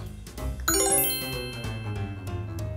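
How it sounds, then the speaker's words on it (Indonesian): A bright notification ding rings out with a chiming, bell-like tone that decays slowly over a soft musical background, loud and close, with no speech. "Ada notifikasi pertanyaan nih."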